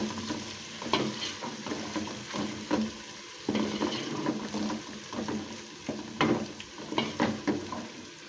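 Garlic and ginger fry in a pan for chana pulao, a steady sizzle broken by repeated scraping stirs at an uneven rhythm, close and clear with no talking.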